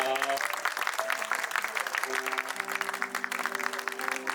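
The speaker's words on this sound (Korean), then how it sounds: "박수 주시기 바랍니다" Guests applaud at a wedding ceremony, a busy patter of clapping carrying over sustained instrumental music tones in the background, with faint voices mixed in.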